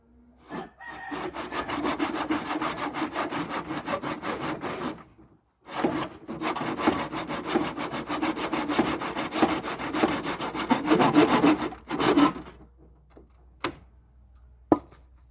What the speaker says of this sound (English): It's invaluable to have good sharp hand saws.